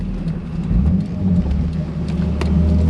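A 1991 Toyota MR2 with a mid-mounted 2GR V6 engine idles or runs steadily, a continuous low rumble heard close and loud without any talking.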